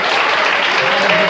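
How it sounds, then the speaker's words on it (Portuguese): A church congregation applauds in a brief, dense wash of clapping that stays steady and close for its short length. A voice may be faintly mixed in beneath it. "Palmas e glória a Deus"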